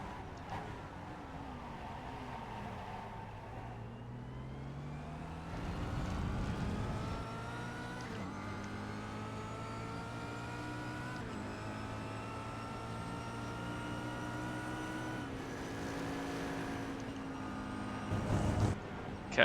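Kia Optima race car in the iRacing game at Spa, its engine holding a steady drone in second gear with pitch sweeping up and down through corners, loud and continuous with no talk.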